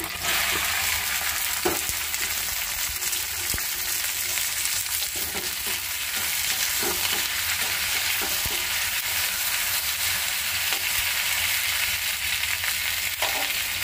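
Oil heating in a pan for frying okra gives a steady, close sizzling hiss with scattered small pops and clicks, continuous for the whole stretch with no talking.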